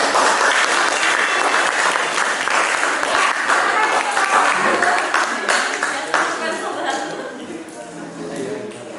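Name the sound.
applause for the first group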